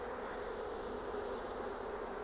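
A honeybee swarm dumped onto a hive makes a faint, continuous buzzing hum with no talk over it.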